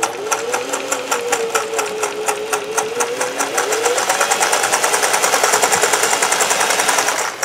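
A sewing machine running a blind hem stitch with a Schmetz triple needle, its rapid, steady needle chatter close and loud throughout and quickening slightly partway through, with no talk over it.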